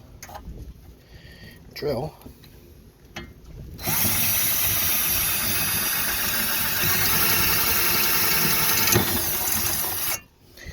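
A voice speaks briefly, then a loud power drill whirs steadily through a panel backed by a wood block for about six seconds before stopping abruptly.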